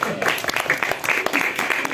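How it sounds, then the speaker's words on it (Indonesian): Audience applause at an Indonesian gathering, steady clapping from a crowd that runs the full length at close, moderate loudness, with some voices mixed in. "Oke, tepuk tangan dulu lah."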